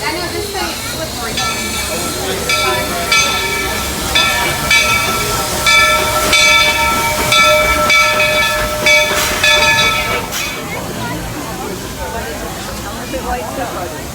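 Magic Kingdom railroad steam train boarding at the station on a rainy day: a loud, steady steam hiss, then a sustained multi-tone whistle for several seconds before it cuts off and the hiss and station noise carry on, with voices in the background.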